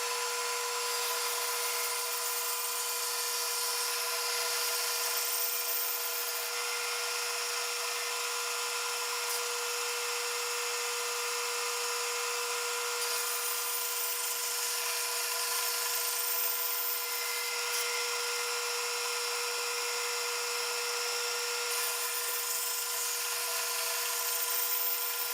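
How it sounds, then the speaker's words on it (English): Power saw steadily cutting thin slivers from a segmented wood block, a continuous high whine held at an even level for the whole stretch, close and loud with no talk. "So I just keep repeating the process of cutting these thin slivers all the same thickness."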